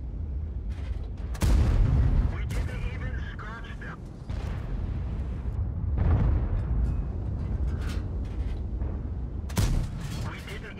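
Heavy cannon blasts from a T110E5 tank in World of Tanks boom out in a few widely spaced, loud shots with rumbling tails over a steady engine drone, while someone talks throughout.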